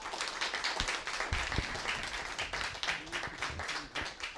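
An audience gives a big round of applause to welcome a speaker to the stage, a dense, close burst of many hands clapping that holds steady, with a few sharper individual claps near the front.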